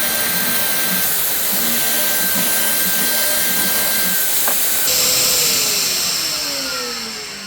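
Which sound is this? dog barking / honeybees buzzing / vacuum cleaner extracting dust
vacuum cleaner extracting dust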